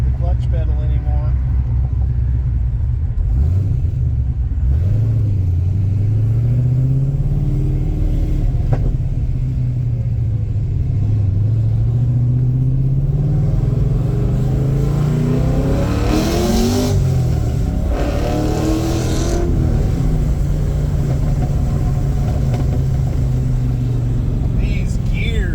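A car with a manual clutch revs and pulls through the gears while being driven, a loud engine drone rising and falling repeatedly with a person talking over it.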